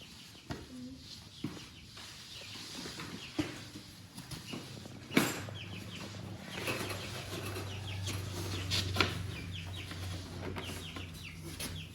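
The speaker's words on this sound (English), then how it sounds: "Watch out, chicken." Chickens cluck softly under a heat lamp in a cold, open garage, with scattered calls and a brief burst of wing flapping over a steady low hum.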